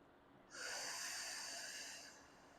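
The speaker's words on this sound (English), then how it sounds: "So just take a deep breath right now." A single deep breath drawn in sharply and released, a close, airy rush lasting about a second and a half before fading, with no talking.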